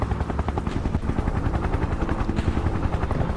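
Helicopters in the horror video game My Little Foundation: Containment Is Magic give a loud, steady, close rotor thump with rapid rhythmic chopping. It continues without a break throughout and no voices are present.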